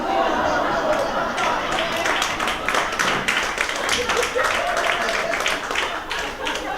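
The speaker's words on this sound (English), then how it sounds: "There's some really angry women clapping at that" A comedy show audience of women claps in a steady, fairly loud patter, with crowd chatter mixed in and a voice talking over it.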